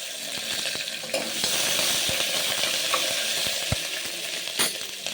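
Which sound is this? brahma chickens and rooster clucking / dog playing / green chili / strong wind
green chili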